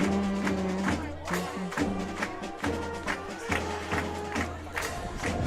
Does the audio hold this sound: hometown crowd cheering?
yes